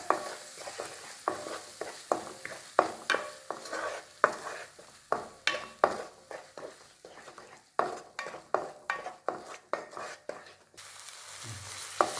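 Onion, garlic and green chilli paste sautéing for green peas masala: a steady sizzle broken by repeated spatula scrapes and stirs in a regular rhythm, close and fairly loud, with no talking.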